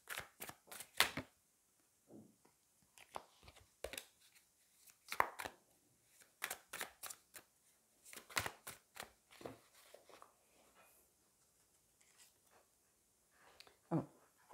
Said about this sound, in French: On va aller prendre deux cartes